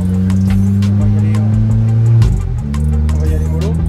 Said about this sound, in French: Alors la voiture sort du garage, hein.